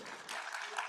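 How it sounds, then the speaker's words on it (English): Applause at a bar association courts event, given for a judge: a brief, faint burst of clapping from an audience, lasting under a second. "Round of applause."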